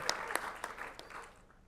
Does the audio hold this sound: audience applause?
yes